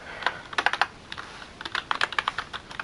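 Keys on a computer keyboard are pressed in rapid, irregular bursts of crisp clicks, close and clear, during Minecraft play, with a short pause between the flurries.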